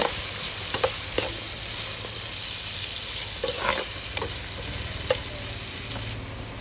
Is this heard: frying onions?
yes